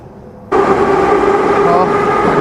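A subway train in a station bursts in with a sudden loud, steady rumble and a droning hum that carries on to the end, with voices faintly mixed in.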